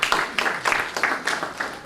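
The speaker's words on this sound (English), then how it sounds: "Prince Kingsley Wokoma, a round of applause for him" Applause at an aviation careers conference in 2021: an evenly paced run of claps, close and moderately loud, sounding like a small group rather than a large crowd.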